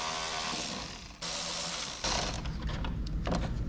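Ratchet wrench with an extension loosening grille bolts on a 2025 RAM 1500, rapid close clicking of the pawl in short bursts, fairly quiet.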